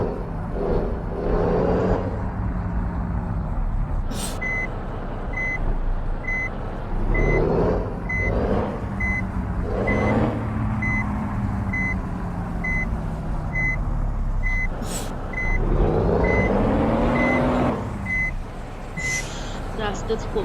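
A bus backs into a corner spot during a Kankavli to Chiplun trip, its reversing alarm beeping in a steady, evenly spaced series over the low rumble of the idling engine, with a hiss of air brakes.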